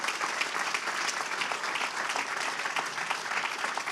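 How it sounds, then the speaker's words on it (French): An audience at a city New Year's greetings ceremony in Rezé gives sustained, even applause, a dense wash of many hands clapping at moderate distance throughout. "Un tonnerre d'applaudissements"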